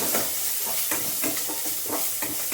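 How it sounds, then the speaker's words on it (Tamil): Onions sautéing in a pan give a loud, steady sizzle, broken by regular scraping strokes of a spoon stirring them, close up and with no talking. "வெங்காயம் கூட நிறைய வதக்க தேவையில்லை, கொஞ்சம் வதக்கினா போதும்."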